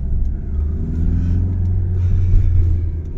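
A Kia Optima 1.7 CRDI diesel car driving around town, its engine giving a steady low rumble with a slight lift as it pulls, heard from inside the cabin with no talking.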